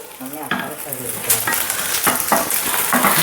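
Curry leaves dropped into hot oil in a pan with softened onion, a sudden sharp sizzle and crackle followed by stirring scrapes and spattering, loud and close.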